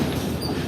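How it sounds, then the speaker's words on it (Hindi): A train approaching on the Quetta railway line makes a continuous mid-distance rumble of rolling stock, steady and unbroken with faint rail texture. "तो कोयटा वाली लाइन से ट्रेन आ रही है।"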